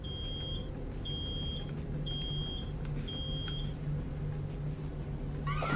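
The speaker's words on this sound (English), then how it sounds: "Something's beeping." An alarm in the video game Road 96 gives four evenly spaced, high electronic beeps over a constant low background hum, ending with a brief sharp rattle.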